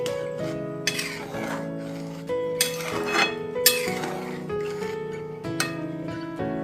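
Masoor dal being mixed by hand in a bowl with garam masala powder and chopped coriander: a few sharp clinks against the bowl at irregular moments over steady background music.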